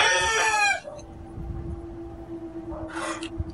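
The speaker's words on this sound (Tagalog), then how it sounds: "Mga manok na mahimik kayo" A rooster crows loudly nearby, breaks off, and then a second crow starts up after a short pause over a low steady hum.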